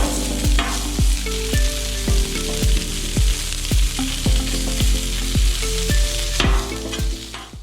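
Beef stir fry with broccoli sizzles loudly and steadily on a Blackstone griddle as the meat is turned and flipped, under a regular thumping beat.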